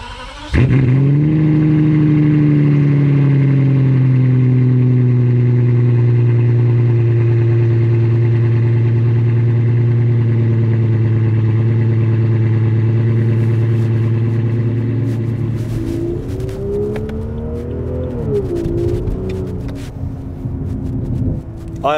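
A BMW 7 Series with a V12 engine fires up with a loud burst, settles into a smooth deep idle for a long stretch, then revs up and down several times near the end, close and loud.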